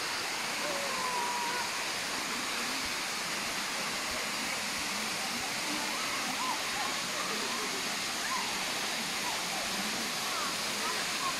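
Can-Umantad Falls in Candihay, Bohol, gives off a continuous broadband roar of falling water, steady and unbroken throughout, heard from a moderate distance.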